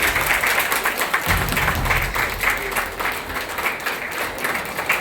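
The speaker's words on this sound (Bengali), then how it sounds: "করতালির মাধ্যমে" Audience applause rises from a crowd at a Hooghly rural police event, greeting an IPS officer; dense, steady clapping fills the room at close range for several seconds, with faint voices mixed underneath.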